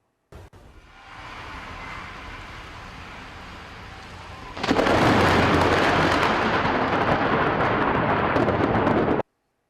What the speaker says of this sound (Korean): 가끔 비가 내리게 되면 천둥이 치게 되죠.